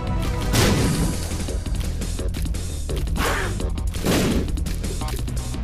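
Bombs exploding in The Binding of Isaac during the Mom's Heart fight, repeated loud bursts and crashes over a busy game soundtrack, several blasts a second or so apart.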